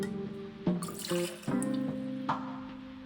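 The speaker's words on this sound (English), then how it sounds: "We're going to kick this one off by adding 2 ounces, so 60 ml of our bourbon whiskey." Bourbon whiskey, two ounces, is poured for a St. Lawrence cocktail. A liquid pour gurgles close and clear with rising tone and several glugs over a few seconds, and no one speaks.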